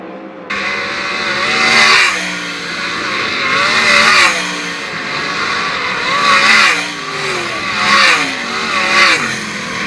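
410 sprint cars race at Attica Raceway Park, their engines roaring loudly and continuously, swelling and fading in waves as the pack passes, with no talk.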